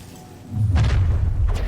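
A Confringo spell from the video game Hogwarts Legacy goes off in a single deep, close boom that rolls into a sustained low rumble after a brief quiet lead-in.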